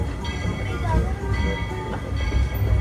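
Walt Disney World Railroad's Lilly Belle, a 2-6-0 steam train, rumbles steadily along at close range, a continuous low mechanical roar with faint clatter throughout.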